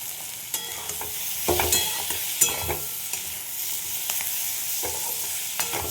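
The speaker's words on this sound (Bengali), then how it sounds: "এগুলো সটে করা আমার হয়ে গেছে, আর বেশি ভাজবো না" Tomatoes and green chillies sauté in a pan with a steady sizzle, punctuated by repeated scraping and clattering stirs, close and alone with no voices.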